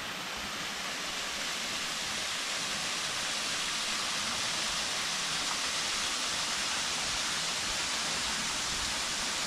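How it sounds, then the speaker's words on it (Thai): Water cascades over tiers of broken, sliding rock at a Phu Kradueng waterfall in the dry cool season, a steady, loud, unbroken rush with no voices. "เป็นน้ำตกที่เป็นชั้นๆแล้วเป็นหินแตกสไลด์ลงมานะครับ"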